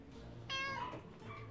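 A single cat's meow rises sharply and fades within a second, fairly close and clear over low room hum.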